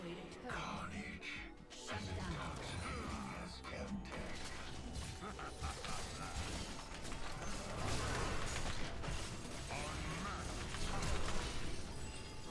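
Urgot's grinder ability in League of Legends, a grinding mechanical churn with creaking, ratcheting and crashing layers that runs continuously and fairly loud alongside busy game effects.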